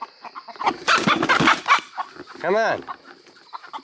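Chickens cluck and squawk in a short burst nearby, followed by a rising-falling call, with a person speaking briefly over them.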